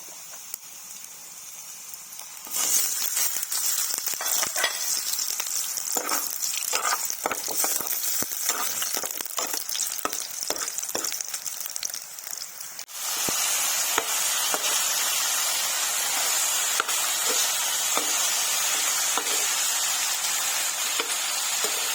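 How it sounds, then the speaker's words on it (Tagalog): Mixed vegetables with squid rolls sautéing in a pan, a loud, close, continuous hiss and sizzle marked by crackling stir strokes, with a brief drop before the frying surges again. "Luto nga pala tayo ngayon ng sari-saring gulay na may squid rolls. Gisa natin siya."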